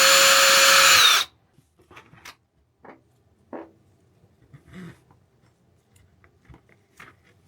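A power drill spins briefly to back out screws from a panel on a Predator 2000 generator, a loud whir for about a second, followed by quiet small clicks and handling noises.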